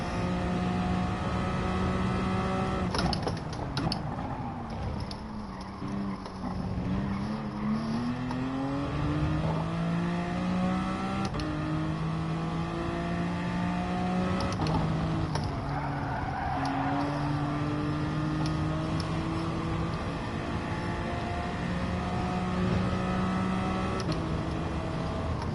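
A BMW race car engine in Gran Turismo Sport drones steadily throughout, its pitch climbing and falling through gear changes, loud and continuous with no talking over it.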